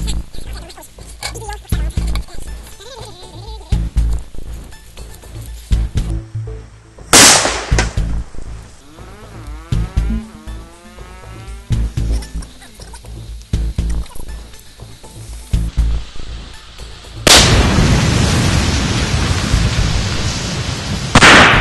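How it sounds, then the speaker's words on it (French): A sudden loud bang bursts out, followed later by a second blast from a firecracker in a bag of flour that lingers as a long roaring rush, with speech in between. "Regardez ce que ça donne un pétard dans un sac de farine."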